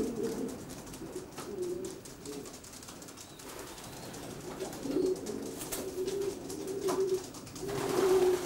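Racing pigeons coo steadily inside a spacious pigeon loft, with low repeated coos running throughout, a few soft wing flutters and scattered clicks in a quiet, enclosed space.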